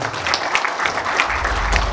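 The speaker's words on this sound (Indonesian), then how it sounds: "Tepuk tangan sekali lagi buat Silo" An audience at a public discussion on kratom exports applauds in a steady wash of clapping, moderately loud and continuous, with a low rumble underneath toward the end.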